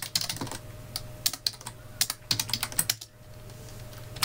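Rapid keystrokes on a computer keyboard while a command is entered into a Python program, coming in quick bursts with short pauses, close and fairly loud, no voices.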